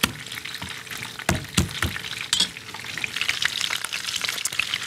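Onions and smashed garlic cloves get stirred in a roasting pan, producing a run of scraping clunks and rattles over a continuous sizzle that builds toward the end, close and fairly loud.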